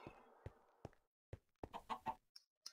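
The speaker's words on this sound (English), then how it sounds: "Hey, chicken." A chicken in the video game Minecraft gives several short, sharp clucks, spaced irregularly and then bunched closer together near the end, fairly loud against otherwise quiet game sound.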